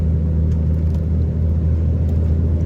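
A car creeping slowly along a narrow road near the border, heard from inside as a steady low engine rumble and road drone, close and even, with no talking.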